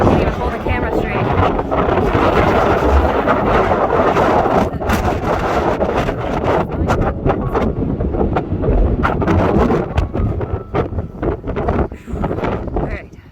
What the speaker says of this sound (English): It's so windy I can't even hold the camera straight.